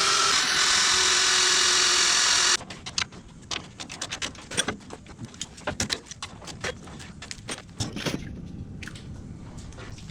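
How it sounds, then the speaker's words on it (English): A stepped drill bit bores down through metal while fitting a bolt-on front air-ride setup on a 1967–72 Chevrolet C10 pickup: a loud steady whine for about two seconds, then a stretch of scattered clicks, taps and short grinding bursts. "I have a stepper bit. I'm drilling through from the top."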